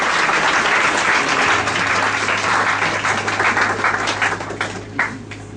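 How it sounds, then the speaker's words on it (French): Church congregation applauding and clapping during a worship service, a dense sustained wash of many hands close and loud, thinning slightly near the end with a few scattered claps. "Acclamez le Seigneur. Clap for the Lord."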